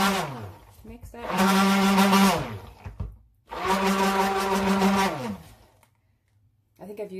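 A blender whirs in two loud bursts of about two seconds each, mixing Hunter Green colorant into a cedarwood spearmint soap batter, with a short pause between the runs and quiet before and after.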